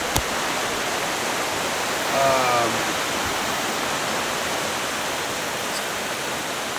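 Water pouring and rushing at the source of Mammoth Spring, Arkansas, where cold spring water wells up from a deep opening; a steady, broad, close wash of flowing water with no talk.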